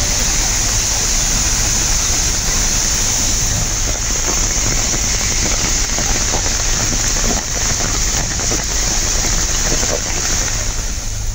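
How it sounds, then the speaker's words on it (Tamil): Floodwater roars down the Kaviyaruvi waterfall near Pollachi in Coimbatore district after days of continuous rain, a loud, steady, unbroken wash of rushing water that fills the whole stretch with no pauses. "கோவை மாவட்டம் பொள்ளாச்சி அருகே தொடர் மழையால் கவியருவியில் திடீரென வெள்ளப்பெருக்கு."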